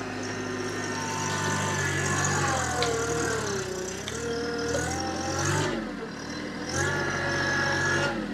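TYM T264 hydrostatic tractor running with its auto throttle, a steady mid-pitched diesel drone that swells and dips a few times as engine speed changes, heard fairly close without talking.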